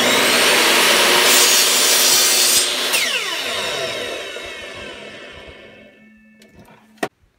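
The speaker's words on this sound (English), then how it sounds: "Cut that on the chop saw." A chop saw cuts through walnut wood with a loud, close, rough buzz as the blade passes through the board. The motor then winds down over several seconds, followed by a sharp knock and brief quiet.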